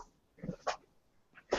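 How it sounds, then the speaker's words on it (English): A puppy snorts and huffs in a few short, soft bursts, the last one a little louder, close to the microphone indoors. "The dog? The puppy?"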